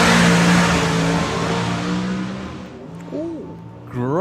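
A turbocharged doorslammer drag racing car roars past at full throttle, loud at first and then fading as it pulls away down the strip, with commentators' voices coming in near the end.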